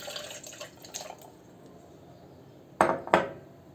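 Water-thinned molasses remedy for chicks and hens being strained, with faint drips and liquid trickles early on, then two sharp, louder splashes or clinks of liquid against a container near the end.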